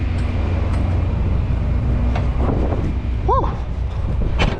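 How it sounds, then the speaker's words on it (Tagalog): Strong wind roars steadily and loudly across the microphone near a Volvo truck in snowy weather, a low rumbling buffet with a brief tonal chirp partway through and no clear speech. "Lakas ng hangin"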